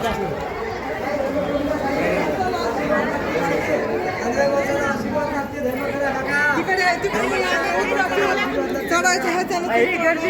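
Dense crowd chatter fills the busy steps of the Mahurgad fort temple, many voices overlapping in a steady, close hubbub with no single voice standing out.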